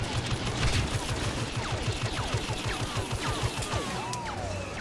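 Rapid blaster fire rattles in a steady stream in the Star Wars Battlefront Tatooine survival mode, with scattered whooshing shots and ricochets over a dense, loud battle background.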